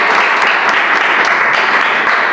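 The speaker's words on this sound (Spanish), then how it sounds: "un aplauso al Señor" A church congregation applauds the Lord in dense, steady clapping that fills the space continuously, loud and close.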